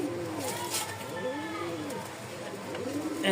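A pair of Bukhara pigeons cooing nearby, soft repeated rolling coos in a dim indoor setting, faint and close, with low background noise.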